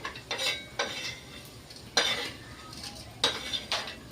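A spoon scrapes and clinks against a pan as roasted masala for a chicken curry is scooped onto a plate, giving soft irregular metallic scrapes over a faint background hiss.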